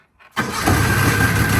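A 1997 Ski-Doo Formula 500 snowmobile engine with a sticking ignition switch cranks briefly and then catches into a loud, steady, close idle, with no talking.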